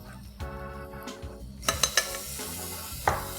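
Garlic and ginger paste stirred and frying in a hot pan with slightly caramelized onions for a mutton do pyaza curry: a steady sizzle with a few sharp scrapes and clinks of a utensil against the pan.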